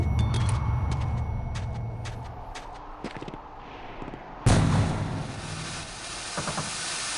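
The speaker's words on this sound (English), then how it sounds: "That sound effect of the smoke going off" A smoke grenade goes off in a video game with a sharp burst and a loud sustained hiss that slowly fades, after a stretch of clicks and low ambient rumble.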